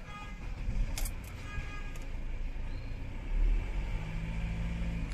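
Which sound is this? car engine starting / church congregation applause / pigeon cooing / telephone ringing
car engine starting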